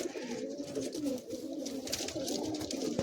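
Madrasi high-flying pigeons coo continuously in low, rolling warbles, several birds close by with a steady murmuring rhythm.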